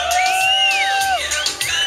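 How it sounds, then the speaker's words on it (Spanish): A crowd at a 2010 tuning car expo shouts and whistles loudly and continuously, with sliding whistles rising and falling over a dense bed of yelling and whoops. "Vamos a despedirla con un fuerte grito a todos los caballeros."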